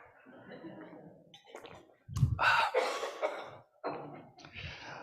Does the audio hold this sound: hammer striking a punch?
no